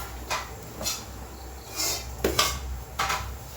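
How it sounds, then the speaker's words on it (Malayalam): A cooking pan is set down on a stove in a kitchen while making payasam, producing several sharp metallic clanks and knocks spaced irregularly, close and fairly loud. "അപ്പോൾ ഒരു ചട്ടി അടുപ്പത്ത് വെച്ചാൽ"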